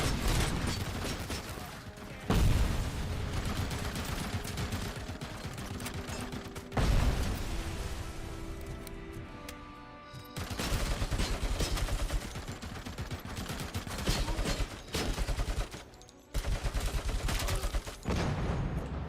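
Bursts of machine gun fire and mechanical clatter from a RoboCop arcade game, loud, dense volleys repeating in long stretches with brief pauses between them.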